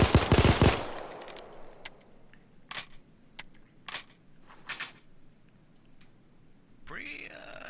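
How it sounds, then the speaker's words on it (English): Glock 17 pistol fired in the video game Payday 2, a quick burst of sharp shots followed by several separate single reports and a mechanical reload clack near the end. "I'll show you the recoil about actually trying to control it."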